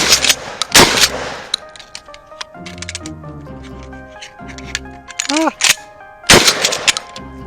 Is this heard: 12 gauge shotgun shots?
yes